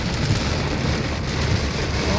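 Heavy rain pours steadily during a thunderstorm, a dense close roar of rain on surfaces with a low rumble of thunder underneath and no voices.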